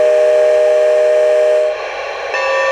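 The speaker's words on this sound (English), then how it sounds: "two other sound effects on the remote control for the sound card, and they are the whistle" The electronic steam whistle sound effect of a G-scale radio-controlled Shay model locomotive blows steadily with strong harmonic tones, then shifts to a breathier, hissing tone near the end; loud and close, no voices.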